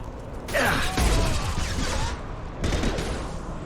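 Sniper rifle fire in the Mass Effect 2 video game: a couple of sharp, loud shots with mechanical clatter and echoing tails, spaced a second or two apart, with no talk over them.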